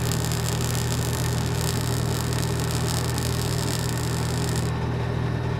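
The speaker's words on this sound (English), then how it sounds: "start this welder up again. Alright, let's weld these here." A welder runs in Farming Simulator 19, giving a steady electric buzzing hum with a crackling hiss on top that cuts away near the end while the drone continues.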